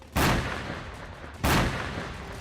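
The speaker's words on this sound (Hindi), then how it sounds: "मोर्चा संभाले इजराइल की तोपें गाजा पर ताबड़तोड़ गोले" Israeli artillery firing shells on Gaza: two heavy, loud booms about a second and a half apart, each followed by a long, rumbling decay, with no voices.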